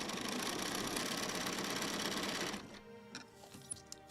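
A sewing machine stitching a line on a quilt runs steadily with a fast, even mechanical whir for about two and a half seconds, then stops, leaving a few faint clicks and handling sounds.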